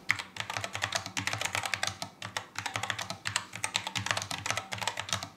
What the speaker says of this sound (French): mais aussi pour le bruit que font les touches quand on frappe dessus